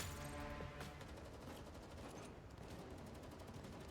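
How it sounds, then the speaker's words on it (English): Rapid gunfire bursts with thuds and footsteps in the video game Girls Frontline 2 Exilium, a dense continuous rattle of shots in a narrow corridor with a heavy low rumble beneath, no speech. "The sounds of gunfire, thuds, and footsteps."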